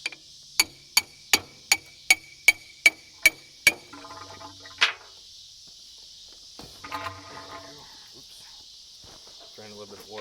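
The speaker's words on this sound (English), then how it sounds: "Give a little hammer help here." Nine sharp metallic hammer taps ring out at an even rhythm on a hydraulic cylinder from a Case 450 dozer, followed by scattered clanks and shuffling with a steady high whine behind.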